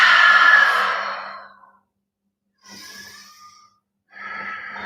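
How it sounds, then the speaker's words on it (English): Breathing during a vinyasa yoga flow: a long, loud exhale, then after a pause a shorter breath and another strong breath, close and clear with no talking. "Hover and breathe."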